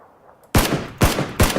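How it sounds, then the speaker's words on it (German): Gunfire in PUBG, three sharp, loud gunshots spaced about half a second apart, each with a short ringing tail, coming after a quiet lead-in. "Oh, ein Schuss auf mich."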